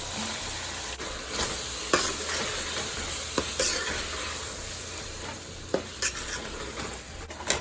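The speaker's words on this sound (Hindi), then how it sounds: "अब हम इसमें टमाटर डालेंगे।" Tomatoes and green chillies stirred into frying chicken biryani masala in a pan give a steady close sizzle, with several sharp scrapes and clinks of a spoon against the pot.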